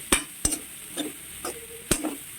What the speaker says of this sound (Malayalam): ഇതുപോലെ ജസ്റ്റ് നന്നായിട്ടൊന്ന് ഇളക്കിയെടുക്കണം